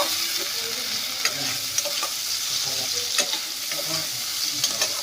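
Chicken liver sautéing with a spice paste in a hot pan gives a steady close sizzle and frying hiss, with scattered scraping stirs and small pops throughout and no voices.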